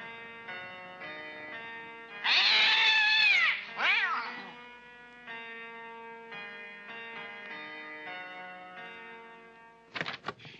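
A cat lets out one long, loud, wavering meow followed by a shorter cry, with a steady background tone behind them and a brief burst of noise near the end.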